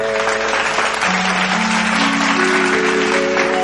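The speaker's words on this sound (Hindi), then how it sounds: "आलोक कुंडू गोटे जोरदार करताली" Loud applause for singer Alok Kundu on a stage show, continuous crowd clapping heard together with sustained musical tones from the stage throughout.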